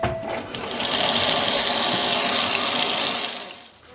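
Cold water gushes steadily from a kitchen tap, a continuous broadband rush that swells after the start and tapers off near the end.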